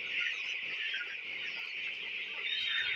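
Broiler chicks in a rearing pen chirp continuously as a dense, steady flock, many high peeps overlapping at an even, fairly loud level with no speech.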